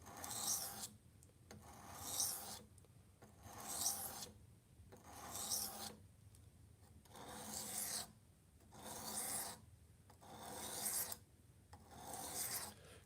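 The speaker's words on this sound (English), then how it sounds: "sharpening freehand is really not too bad" Knives from Wusthof, Hampton and Farberware are sharpened freehand on a stone, eight even rasping strokes repeating at a steady rhythm with short pauses between, close and fairly quiet.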